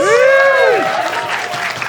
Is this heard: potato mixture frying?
no